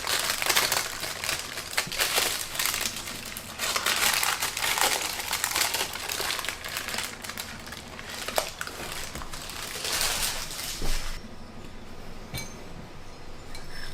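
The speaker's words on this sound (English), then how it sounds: "Slowly release the paper." Crinkly baking paper rustling and crackling continuously up close as it is peeled off a Swiss roll cake sponge, with soft scrapes and small clinks, quieting toward the end.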